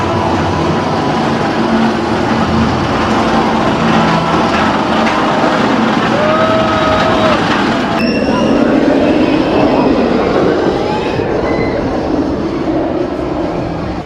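The Nemesis roller coaster at Alton Towers thunders along its track with a loud, continuous rumbling roar of wheels on rail, with brief metallic squeals partway through and faint crowd voices behind it.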